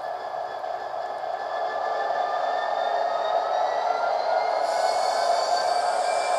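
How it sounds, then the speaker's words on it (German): An ESU Class 66 model diesel locomotive starts up, its sound module spinning the engine up into a steady droning rumble with a tonal whine, holding loud and even before the locomotive moves off; no voices. "Erst wenn der Diesel hörbar hochgefahren ist, erst dann setzt sich diese Lok in Bewegung."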